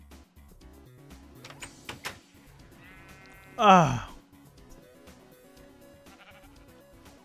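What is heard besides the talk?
sheep bleating in Minecraft video game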